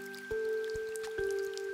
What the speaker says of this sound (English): The rain is slightly lighter now.